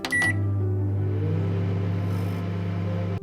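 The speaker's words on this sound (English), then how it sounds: "the sound a microwave makes" A microwave oven gives a couple of quick beeps and then settles into a loud, steady running hum that drones on without a break.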